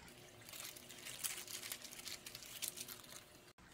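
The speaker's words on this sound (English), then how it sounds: "Now place it in Ziploc bag." A wet paper towel is pushed into a Ziploc plastic bag, making soft crinkling, rustling and damp patter sounds close up for a few seconds.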